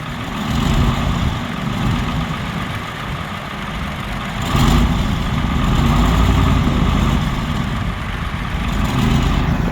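A Dodge diesel semi truck engine idles while warming up, with a steady, deep rumble that swells slightly partway through, running continuously with no talking.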